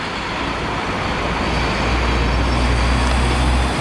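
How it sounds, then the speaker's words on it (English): Steady loud roar of a garbage truck engine idling close by, a continuous low rumble with road noise and no talking. "Garbage truck wants you to move."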